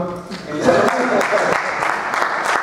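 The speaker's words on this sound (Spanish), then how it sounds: "Un aplauso también." Audience applause at a talk event in Spanish, a steady dense wash of clapping over about three seconds with voices and a cheer mixed in underneath.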